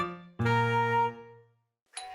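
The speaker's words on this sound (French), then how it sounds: "À ce moment, la sonnette d'entrée retentit et Caillou courut pour répondre." A doorbell rings with a single two-tone ding-dong, a low chime followed by a louder ringing tone that decays over about a second, then a brief bright sound after a short silence.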